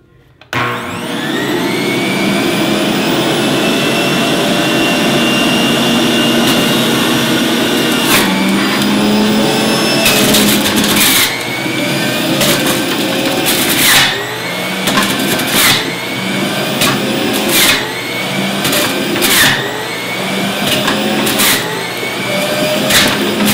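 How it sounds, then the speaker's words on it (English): A Breville BJE200XL juicer starts up and runs with a loud, steady motor whine while two apples are fed through, sharp crunching bursts and rattles breaking through the roar as each piece is juiced, continuous and close. "Now we'll juice the same amount of apples in the Breville."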